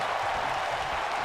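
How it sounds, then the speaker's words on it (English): Wrestling fans at a live GWF wrestling show cheer and applaud, a steady dense roar of crowd noise that stays loud and even for the whole moment, with no single voice standing out. "You can hear these fans."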